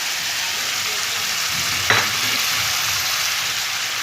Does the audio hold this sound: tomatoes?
yes